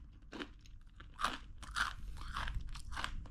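Crunching on a crunchy savory snack during Diwali treats in Mumbai, several close, sharp crisp bites and chews spaced irregularly over a quiet background.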